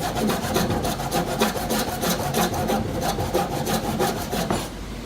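A hand tool cuts notches into wood, giving a fast, steady back-and-forth rasping scrape, close and continuous for several seconds before easing off at the end.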